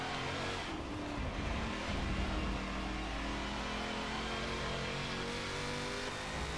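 A race car engine in Forza Motorsport 7, heard from outside the car, revs hard and drones on continuously, a loud, sustained engine roar with slight rises in pitch as it accelerates, with no talking.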